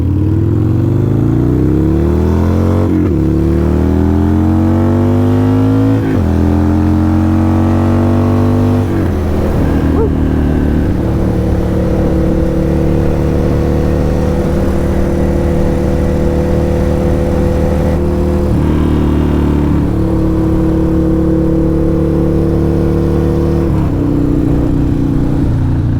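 A 1200 motorcycle accelerating hard in first gear, its loud engine rising steadily in pitch through several revving pulls and shifts, close and continuous for the whole stretch.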